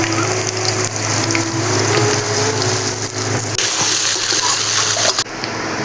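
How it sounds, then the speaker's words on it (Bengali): Potatoes frying in oil in a pan with green chillies as onions are tipped in, giving a loud, steady close-up sizzle that hisses on without pause and with no one speaking. "আলুর মধ্যে কিছুটা আমি পেঁয়াজ দিয়ে দেবো।"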